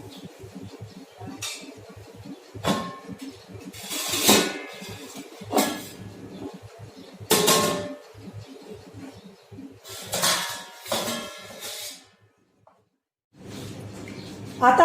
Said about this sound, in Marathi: आता आपण परत झाकण उघडून बघूया.